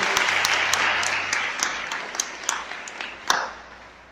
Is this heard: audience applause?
yes